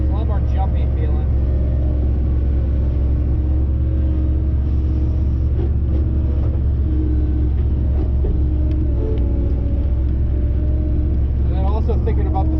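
A GEHL skid steer engine rumbles steadily and loudly in the background while someone talks over it throughout.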